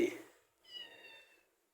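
A short, high-pitched Minecraft cat meow with a bright, synthetic tone, following a brief burst of noise at the start.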